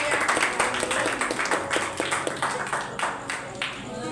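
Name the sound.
congregation applauding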